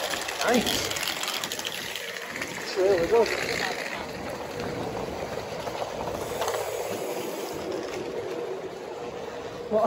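A Class 390 Pendolino train at Wigan North Western station, a low rumbling roll with faint mechanical whine and squeals, heard from the platform as people talk nearby over it.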